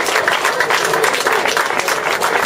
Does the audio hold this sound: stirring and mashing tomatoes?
no